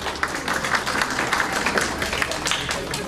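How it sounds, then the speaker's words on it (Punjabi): Audience applause for Harjeet Baji at a family meeting in Noorpur: a steady, dense patter of many hands clapping together for the whole stretch, moderately loud and fairly close, with no talk over it. "ਹਰਜੀਤ ਬਾਜੀ ਲਈ ਜ਼ੋਰਦਾਰ ਤਾਲੀਆਂ"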